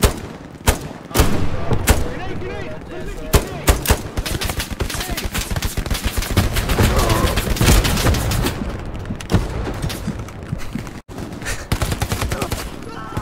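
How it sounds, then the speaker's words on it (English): Video game combat fills the air with rapid, dense gunfire bursts and heavy booms from an enemy bombing run, loud and continuous, with voices speaking underneath. "That was a flippin' enemy bombing run that just killed a ton of their guys."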